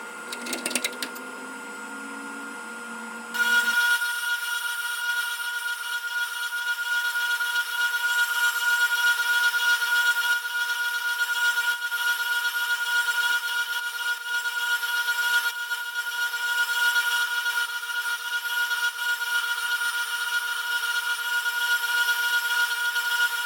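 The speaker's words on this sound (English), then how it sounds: "So now I'm going to take it over to the grinder and kind of smooth it out." Grinder smoothing a forged titanium kukri knife, a steady loud high-pitched abrasive whine that holds for about twenty seconds after a brief, quieter start, with no talk.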